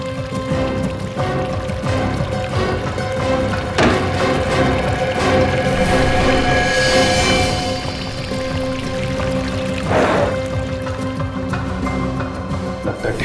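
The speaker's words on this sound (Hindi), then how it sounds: "पानी की आवाज।" Water pouring and dripping inside a hotel room, a steady close stream running for over ten seconds with a few louder splashy surges.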